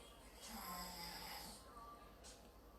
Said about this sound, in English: I could do without the snoring